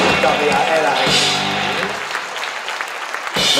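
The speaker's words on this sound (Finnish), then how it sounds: "Antakaa valtavat aplodit, aivan mahtavia eläimiä." Audience applause at a kangaroo show in Heinola, with steady clapping from a crowd that holds across the clip and fades slightly toward the end, alongside a voice.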